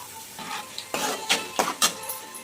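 Fish or masala frying in a pan with a spoon stirring, a soft steady sizzle broken by four or five sharp scraping strokes against the metal, close and fairly quiet.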